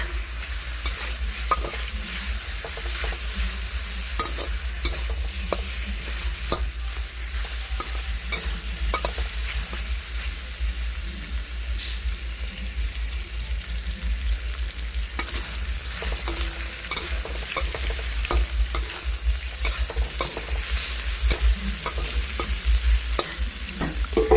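Pork belly stir-fried in a pan, a continuous loud sizzle with frequent quick spatula scrapes and clatters against the metal, growing slightly more intense toward the end, no talking.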